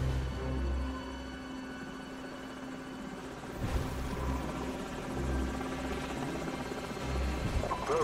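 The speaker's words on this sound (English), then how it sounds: "Enemy helicopters." Enemy helicopters in the video game Call of Duty 4, a steady rotor and engine drone with low thumping that stays loud and close throughout, with a brief sharp swell midway.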